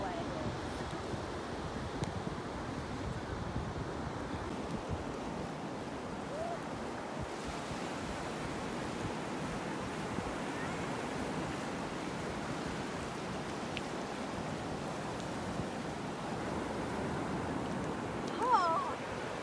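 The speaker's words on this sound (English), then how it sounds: "We're at New Smyrna Beach. Here's the Atlantic Ocean." Atlantic Ocean surf at New Smyrna Beach, Florida, rolls in as a steady broadband wash of waves with wind buffeting the microphone, continuous and fairly even for the whole stretch.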